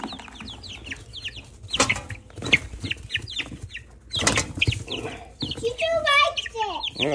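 A barred rock chicken clucks and squawks in short bursts, close by, with wing flapping, mixed with people talking nearby.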